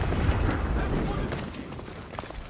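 Fire being set to a silo in Assassin's Creed Odyssey, a deep rumbling whoosh of flames, loud at first and then settling into a lower crackle with small bursts.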